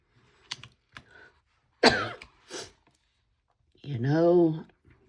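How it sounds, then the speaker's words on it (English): A person with a lingering cough lets out two harsh coughs close to the microphone, with a few faint clicks before them and a short voiced sound after. "I got this stupid cough that just won't go away"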